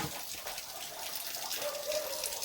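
An open tap runs steadily beside a filled water tank, producing a soft continuous rushing hiss of flowing water, faint and without speech.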